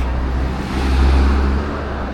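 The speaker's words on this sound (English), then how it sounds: "And there he goes, just casually driving away, no human inside." Driverless car pulling away along a Shenzhen street, a steady low engine and road rumble that swells briefly, with no voices.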